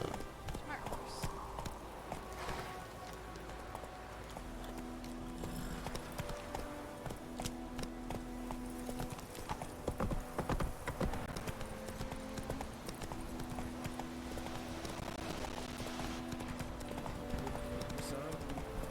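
Horse hooves clip-clop in a quick, steady galloping rhythm in The Witcher 3, close and continuous under speech and game music.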